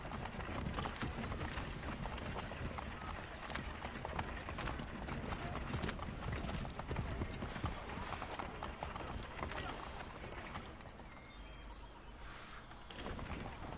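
Horses clip-clopping along the crowded streets of Boston in Assassin's Creed 3 Remaster, continuous hoofbeats layered over a busy crowd and voices, with a brief shift in texture near the end.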